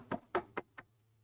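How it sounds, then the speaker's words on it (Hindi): Four distinct knocks or taps on a wooden door in an irregular rhythm, fairly close and moderately loud, followed by quiet with a low steady hum. "जब डोर पे टैप होता है तो हमें पता चल जाता है ना कोई दरवाजा बजा रहा है।"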